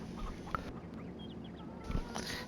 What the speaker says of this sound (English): You can see he's got chickens on the go.